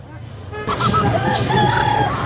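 A desi rooster crows loudly amid a busy crowd at a chicken market in Tongi, with voices chattering all around.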